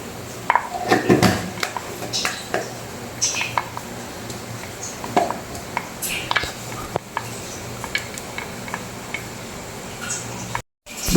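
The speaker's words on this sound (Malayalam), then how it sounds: "ഇപ്പോൾ കടുക് പൊട്ടി വന്നിട്ടുണ്ട്." Mustard seeds and fenugreek pop in hot oil while a soybean pickle is being made. Scattered sharp crackles and pops come in irregular bursts over a background of kitchen clatter.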